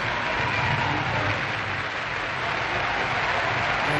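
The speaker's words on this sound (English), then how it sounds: "And finally everyone is cheering him." A stadium crowd applauds and cheers at an athletics race as a runner breaks the tape in record time, a dense, steady roar of clapping and voices filling the whole stretch.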